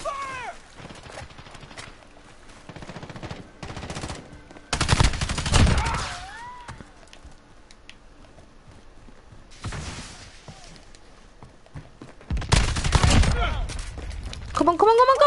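Gunfire in Call of Duty Modern Warfare on PS4: loud bursts of rapid shots in several dense clusters separated by quieter stretches, with game voices and whistling tones in the gaps.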